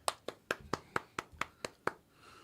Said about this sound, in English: We all got to clap our hands.